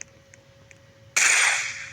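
After a few faint ticks, a single loud, sharp gunshot in the video game Murderers vs Sheriffs bursts out, then a noisy tail slowly fades.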